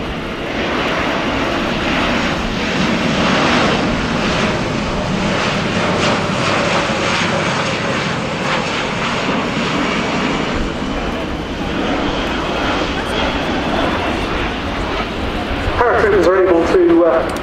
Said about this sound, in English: Now the aircraft being brought back in simulated drop condition.